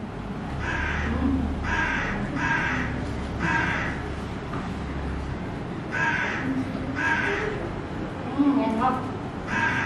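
A crow caws in repeated harsh bursts, in groups of two or three, with short pauses between them over a low, steady background hum.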